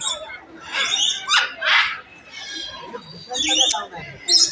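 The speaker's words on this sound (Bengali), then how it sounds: "পাখির ডাক নিশ্চয় শুনতে পাচ্ছেন।" Birds in a Kolkata zoo aviary, among them blue-and-yellow and red-and-green macaws, give harsh squawking calls in repeated bursts, loud and close, with shorter chirps in between.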